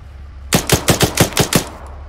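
Machine gun fire in a military video game set during a NATO counter-assault on USSR-held Finnish territory, a rapid burst of about seven sharp, loud, close shots in even rhythm, with no talk.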